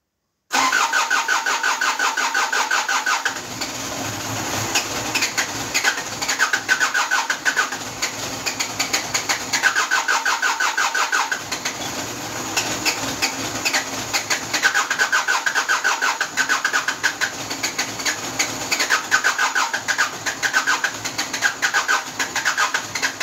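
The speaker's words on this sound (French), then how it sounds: "Son moteur il est super. Ça c'est du moteur." An engine cranks and catches, then runs and revs repeatedly in rising and falling bursts, with birds audible faintly in the background.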